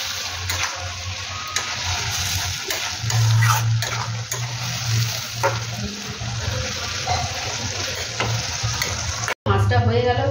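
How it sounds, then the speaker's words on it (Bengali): Small fish fry in a pan while being stirred, a steady sizzling hiss with scraping strokes and a low hum in the background, broken briefly near the end. "একটুখানি নাড়াচাড়া করে দিচ্ছি।"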